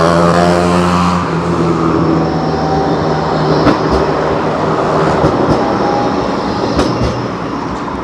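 A Blackpool tram rumbles past up close near the Central Pier, a low steady rolling with faint clicks and a thin high squeal from the rails, loud throughout.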